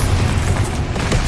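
Blasting spell explosion in the Hogwarts Legacy video game, a dense, booming burst of noise that fills the whole moment at steady loudness.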